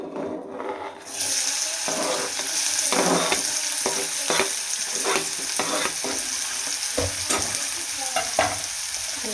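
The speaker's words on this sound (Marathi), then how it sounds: "आता आपल्याला ह्याच्यामध्ये टाकायचा आहे डायरेक्ट कांदा" Raw onion dropped into hot oil in a heated kadhai bursts into loud, dense sizzling after a quiet start, with repeated scraping stirs and clinks breaking through the continuous frying hiss.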